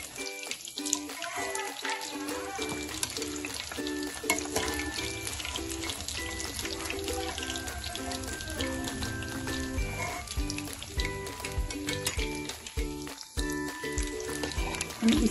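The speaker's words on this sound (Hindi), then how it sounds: "हम इसी तरह से सब पीसेस को ऐसे ही फ्राई गोल्डन ब्राउन करके निकाल लेंगे।" Fish pieces for an Indian fish curry fry in hot oil until golden brown, giving a steady, close sizzle with faint watery crackle that runs the whole time under soft background music.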